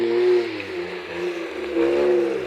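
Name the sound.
car driving through flood water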